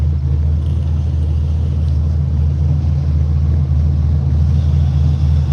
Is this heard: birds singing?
no